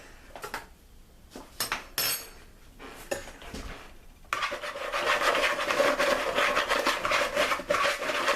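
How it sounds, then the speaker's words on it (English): Seasonings including black pepper and paprika are stirred into flour in a bowl, first as scattered scraping and tapping strokes, then as a steady, continuous rasping rub close by. "And then we're going to stir our seasonings in."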